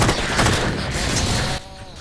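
SAW machine gun firing in short bursts in Halo 4, loud and close, with dense rattling shots that cut off abruptly near the end.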